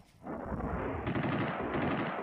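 A German MG 34 machine gun fires a rapid, continuous burst at around 900 rounds per minute, starting abruptly after a brief pause and rattling loud and close for about two seconds.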